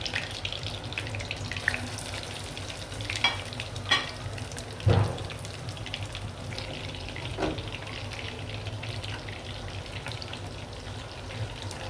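Chicken kebabs fry in mustard oil with a constant close sizzle and crackle, marked by occasional scraping and tapping of a utensil against the pan; nobody speaks.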